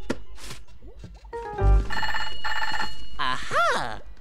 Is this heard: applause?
no